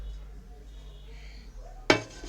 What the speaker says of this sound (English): And then bring over my non-stick pan.